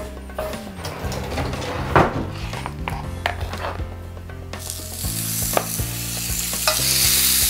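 Lamb chops hiss on an oiled grill, mixed with scattered metallic clicks and scrapes of tongs handling the meat; the sizzle swells into a louder, dense crackle partway through.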